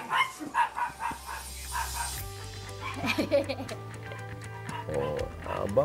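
Several dogs bark in short bursts near a rural home, mixed in with people talking close by.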